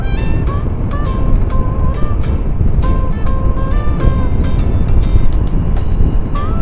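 Vespa S 125 automatic scooter revving up on the road, a steady loud engine drone with rising and falling pitch as it accelerates, wind and traffic noise mixed in.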